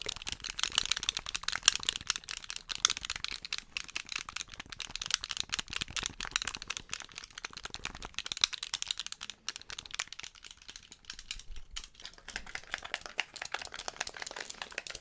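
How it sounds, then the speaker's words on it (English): Fast, aggressive clicking of game controller buttons, a dense rattling run of close, sharp clicks that continues steadily with no speech. "Let's get back to the aggressive clicking."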